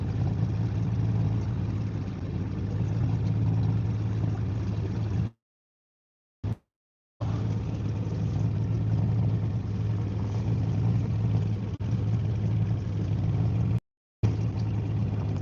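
A 75 horsepower outboard motor drones steadily on a boat out on a lake while fishing for northern pike, a constant low hum that cuts out briefly twice with no talking.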